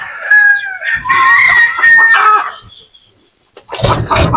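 Texas gamecock chickens crow in drawn-out calls close by, with clucking and rustling between them, a short quiet gap, then a burst of louder clucking and scuffling at the end.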